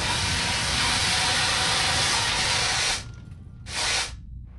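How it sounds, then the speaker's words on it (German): A fire extinguisher sprays in the video game Baphomets Fluch 2.5 with a loud, broad hiss lasting about three seconds, then falls quiet before a second shorter burst. "George, Feuerlöscher"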